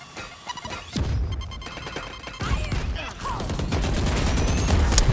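Gunshots ring out in a video game shooter, with sharp cracks starting about a second in and then a loud, sustained string of rapid fire over a busy backdrop of game noise.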